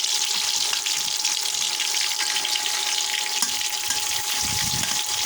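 Onions sizzle and crackle steadily in a hot pan, a close, continuous frying hiss with no talking.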